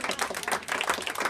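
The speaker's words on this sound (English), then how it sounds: "Clap. Someone clap." Clapping from residents at a community meeting in Wooster Square, a brisk, uneven patter of several pairs of hands, fairly close and moderately loud, with no talking over it.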